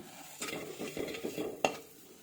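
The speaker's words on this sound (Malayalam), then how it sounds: "അപ്പോൾ അതുവരെ നന്നായിട്ട് വഴറ്റി എടുക്കാം." Soft scraping and stirring of a spoon in a pan with faint sizzling from oil as masala sautés over low heat for fish curry, a few clinks, close by.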